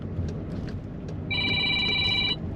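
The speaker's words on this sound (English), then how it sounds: "And there's a phone." A telephone rings in a moving vehicle on a road trip, one steady electronic ring lasting about a second over continuous road and engine rumble.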